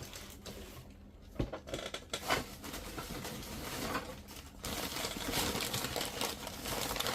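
Newspaper crinkling as a lot of Tomy toy trains is unwrapped: continuous close rustling and crumpling, with a few sharper crackles early and a steady rustle that grows louder toward the end.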